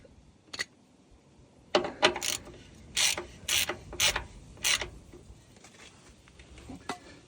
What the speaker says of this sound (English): that annoying point where the ratchet won't quite bite